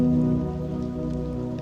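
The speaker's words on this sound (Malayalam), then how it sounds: "മഴ ചാറി തുടങ്ങിയിട്ടുണ്ട്." Light rain drizzles in the Mannavan Chola forest near Kanthalloor, a soft patter over a low, steady droning hum, with no one speaking.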